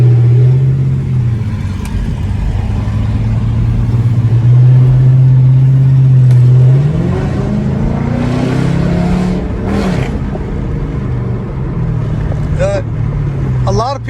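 A Chrysler 300 with a 5.7 HEMI V8 idles with a deep, steady rumble, then revs up and settles back several times, loud and close, with a person talking over parts of it.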